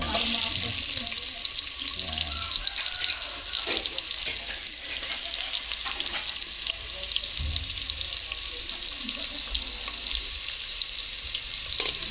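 Ginger sizzles and hisses steadily in a hot pan, a bright continuous frying crackle with occasional stirring knocks underneath.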